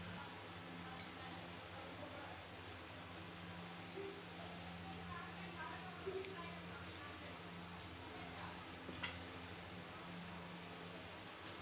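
Egg-dipped, breadcrumb-coated food frying in half a cup of moderately hot oil in a pan, a soft, steady sizzle and faint crackle with occasional light clinks, quiet and continuous.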